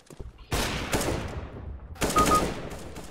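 Gunshots in the shooter CS:GO ring out as sharp, loud cracks, a couple of separated shots with echoing tails, then a tighter cluster of rapid shots a second and a half later.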